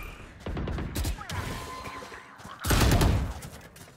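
Valorant gunfire in a close-range round near a garage, with several sharp shots and bursts at about 0.5, 1 and 1.3 seconds and a loud volley near 2.7 seconds, over game noise and faint voice chatter.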